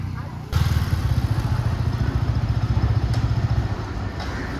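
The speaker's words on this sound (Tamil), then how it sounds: "இல்லை பைக்கில் வரான்" A motorcycle engine starts up and rumbles steadily close by, a throaty pulsing drone that keeps going without letting up.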